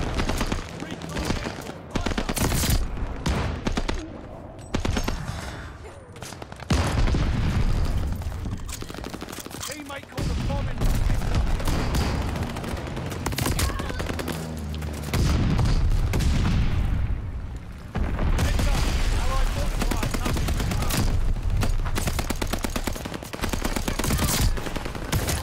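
Call of Duty Vanguard gunfire rattles in loud, sustained automatic bursts nearly throughout, broken by short pauses, with a voice now and then beneath the shooting.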